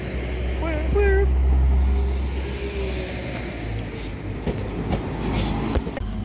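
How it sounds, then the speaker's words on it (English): A train rumbles and builds as it pulls away, with low mechanical drone, some whistling tones early on and clattering later, under faint speech. "just about caught this train"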